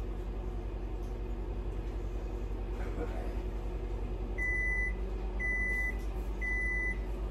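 A microwave oven, heating chocolate for a cake, runs with a low steady hum, then gives three evenly spaced, clear electronic beeps near the end as it finishes.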